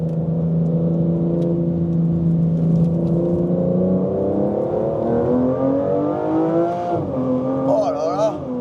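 A 2025 Aston Martin Vanquish in Sport Plus mode accelerates hard, its engine note rising steadily through the revs before a quick gear change and another climb. The car is loud and close from inside, with a voice speaking over it briefly.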